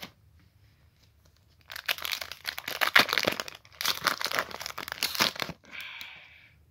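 Foil booster pack of Dragon Ball Super trading cards being torn open and crinkled up close, a few seconds of crackling and ripping after a quiet start.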